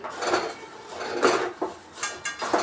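Spoon scraping and clinking against a metal pan while mixing a batter for Telangana-style bongulu, in uneven repeated strokes, close and fairly faint, with no talking.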